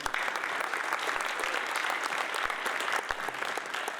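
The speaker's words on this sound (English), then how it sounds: "I would like for everybody to give a round of applause to the parents that are sitting here" An audience at a winter signing day event applauds the parents seated there, dense steady clapping from a crowd lasting the whole few seconds.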